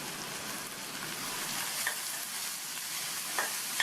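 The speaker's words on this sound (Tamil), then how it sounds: "வெங்காயம் பூண்டதெல்லாம் லைட்டாக வதங்கினா போதும்" Shallots, crushed garlic and curry leaves sautéing in a pan, giving a soft, even sizzle with a couple of faint scraping stirs, quiet and close, with no one speaking.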